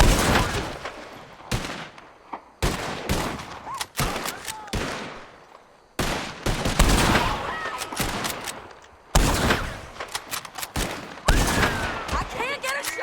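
Gunfire in the video game Red Dead Redemption 2, with a dense run of sharp repeated shots and volleys at varying distances, loud and continuous, with voices shouting over the firing.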